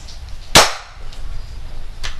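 A spring-powered air rifle with a broken, weak mainspring is dry fired without a pellet, giving one sharp close snap followed by a fainter second click, over a steady low background hum.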